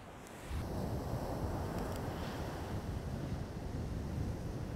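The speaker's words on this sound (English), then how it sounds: "Because I'm kind of waiting on waves" Surf breaks steadily on Pensacola Beach, a dense, loud rushing roar mixed with heavy wind buffeting the microphone, continuous from just after the start to the end.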